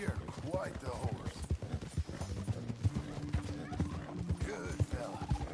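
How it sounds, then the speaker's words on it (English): Horse hooves clip-clop steadily in Red Dead Redemption 2, with a whinny, under layered game music and ambient sound, fairly close and moderately loud throughout. "You're quite the horse."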